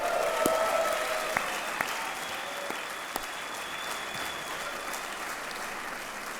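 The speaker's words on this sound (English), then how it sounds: "That haircut deserves a round of applause. And while we're clapping our hands, let's keep them going." A crowd at a surfing event applauds steadily, a dense wash of clapping with a few sharp louder claps standing out, sustained throughout without speech.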